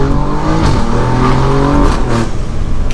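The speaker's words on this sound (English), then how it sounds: "Let's hear that exhaust." A tuned 600 HP Alfa Romeo Giulia Quadrifoglio revs hard, its exhaust roaring loud and close with rising and falling engine tones and crackly bursts, heard alone without talk.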